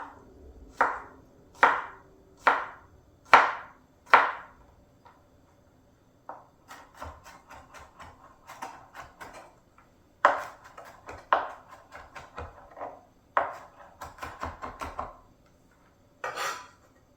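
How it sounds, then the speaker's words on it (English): A knife chops garlic on a cutting board in a home kitchen: five sharp, evenly spaced thwacks, then a denser run of quicker chops and scrapes, close and clear, with no talking. "I didn't chop the garlic super fine."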